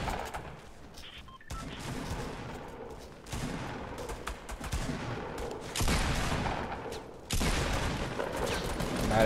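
Shotgun blasts from the video game Fortnite boom in loud, repeated bursts, several close reports and crashes stacked over a few seconds of gameplay, with a voice faintly under the gunfire.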